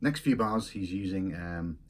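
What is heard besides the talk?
No everyday noise stands out behind the speech.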